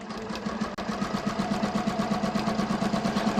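Sewing machine stitching a stretch denim jeans seam, a fast, even mechanical chatter of needle strokes running steadily and close, with a single brief click near the start.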